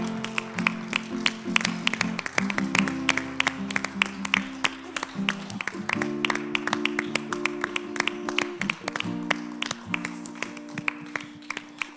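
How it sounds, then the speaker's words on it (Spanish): A church congregation claps during a worship service, the sharp claps falling in a fast, rhythmic beat over steady sustained music, loud and continuous throughout. "Démosle un fuerte aplauso al Señor, hermanos."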